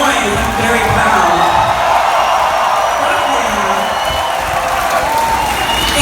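A drag show audience claps and cheers with whoops, a dense, steady wash of applause that fills the whole stretch without a break.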